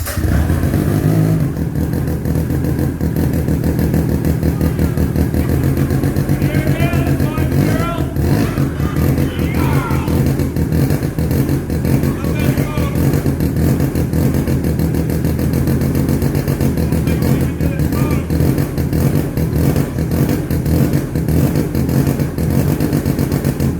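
A 1970 Arctic Cat Panther 303 rotary snowmobile engine, a barn find, runs and revs under throttle with a loud, continuous buzzing clatter close by, while a person talks over it.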